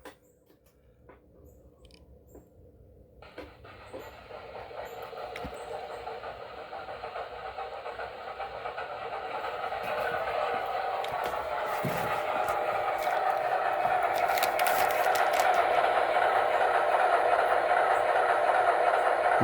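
An RS1 diesel model locomotive starts up, its motor hum swelling gradually from quiet into a steady, rising drone that runs on alone.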